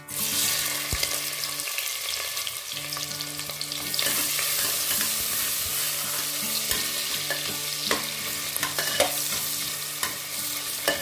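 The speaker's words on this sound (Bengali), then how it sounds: "পেঁয়াজটা হালকা ব্রাউন কালার করে ভেজে নেব।" Chopped onions frying in oil with a spice inside a pressure cooker for prawn biryani, giving a loud, continuous sizzle with occasional clinks and scrapes of a stirring spoon throughout.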